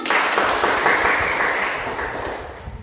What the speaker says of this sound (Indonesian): Baik, berikan tepuk tangan.